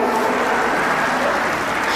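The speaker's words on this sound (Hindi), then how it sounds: "मैं चाहूंगी कि एक बार जोरदार तालियां बजा दें" Crowd at a large festival award ceremony applauds loudly, a dense continuous roar of clapping with a faint voice mixed in beneath it.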